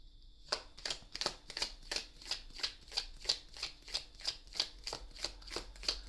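Tarot cards shuffled by hand during a reading: a quick, regular run of crisp riffling bursts, close and fairly soft, with no talking.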